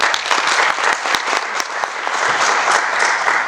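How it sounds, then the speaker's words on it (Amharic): An audience at a talk event claps for a guest, a dense burst of many hands with sharp individual claps, loud and close, sustained evenly for a few seconds without talk. "እስቲ አጨብጭቡለት።"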